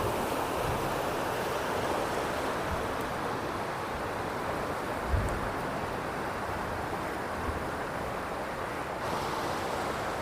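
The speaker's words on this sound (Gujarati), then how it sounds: "આ નર્મદા કેનાલનો નજારો અને કેવું પાણી જઈ રહ્યું છે તમે સાંભળી શકો છો વિડીયોમાં" Water rushes steadily through the Narmada canal, a loud, continuous broadband roar with no pauses, close to the microphone and with no voices over it.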